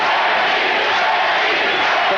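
Fight crowd at a kickboxing bout roaring for Benny the Jet Urquidez: a dense, loud, sustained roar of many voices, even and unbroken from start to finish.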